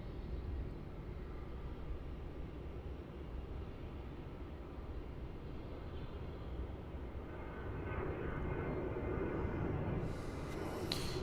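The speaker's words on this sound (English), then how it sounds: "rolling down runway 16 is a Virgin Australia 737-800" A Virgin Australia Boeing 737-800 rolling down runway 16 for takeoff at Melbourne Airport, a distant low rumble building gradually louder toward the end, with brief higher noise near the close.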